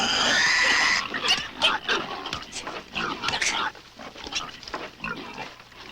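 Pigs feed noisily at a trough, with a squeal at the start followed by a busy run of close grunts, snorts and chomping sounds that rise and fall irregularly.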